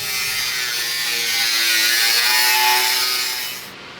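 Rusted steel is cut back on a WWI Hamel cannon under restoration, giving a loud, continuous, close grinding and rasping cut that holds steady and then eases off at the end.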